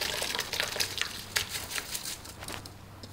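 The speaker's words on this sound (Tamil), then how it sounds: "நம்ம ஜீரக சம்பா ரைஸ் சுத்தமாக தண்ணியை வடிச்சிட்டேன், கொட்டுவோம்." Drained jeeraga samba rice is tipped into a pot of boiling coconut milk, giving a soft crackling, rustling patter of grains over a low bubbling simmer, close and fairly quiet.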